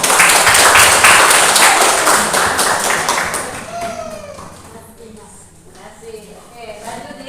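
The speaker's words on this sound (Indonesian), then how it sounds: "Mari kita beri aplaus untuk kelompok 1" A classroom group claps for the first group after a coaching presentation at an academic supervision session, dense and loud at first, then thinning and fading as a voice begins speaking.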